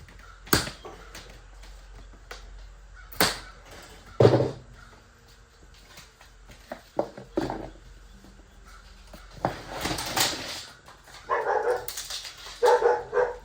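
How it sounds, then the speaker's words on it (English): Dogs bark in sharp, irregular bursts, some loud and close and others fainter and farther off, scattered over a quiet background with no talk. "Apologize for the doggies, they just don't know when to shut up."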